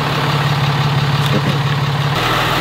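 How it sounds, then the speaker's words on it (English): A Ram truck engine idles with a steady low rumble up close, then its pitch shifts as it kicks into high idle near the end. "Oh, kicking into high idle."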